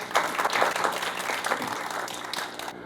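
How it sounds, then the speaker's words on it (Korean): Steady, loud applause from an audience at a railway transport discussion forum, many hands clapping together without pause. "큰 박수 부탁드리겠습니다"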